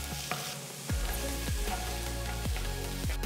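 Steady sizzling of chopped garlic and ginger frying in hot oil, with a few sharp scrapes and stirs against the pan, close and continuous.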